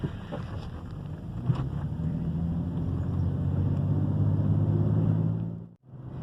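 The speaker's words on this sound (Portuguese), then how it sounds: "Até ela encher a turbina, ó, vai indo e depois você acelera, bicho, ela vai, dá um pulo na frente." A BMW X6 with a twin-turbo N54 engine accelerates, its steady loud roar building as the turbos spool, then cutting off abruptly near the end.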